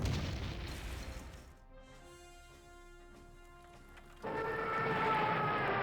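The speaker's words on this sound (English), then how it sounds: "We fire artillery here." Artillery fire in the wartime strategy game Panzer Corps: a loud booming blast, a quieter tonal stretch, then another heavy rumbling burst, with no talk.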